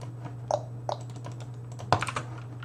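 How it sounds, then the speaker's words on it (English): Sparse keystrokes on a cheap mechanical keyboard with Chinese blue switches, a handful of separate clicks with a quick cluster near the end, over a steady low electrical hum. "I have what was the cheapest mechanical keyboard on Amazon at the time I bought it"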